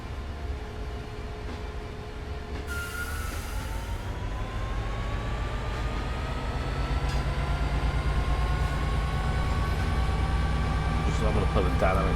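Metrolink F59PHR diesel locomotive in Train Sim World 5 under dynamic braking: a steady, loud mechanical drone with rising tonal whine and rail rumble that swells after a few seconds and holds throughout.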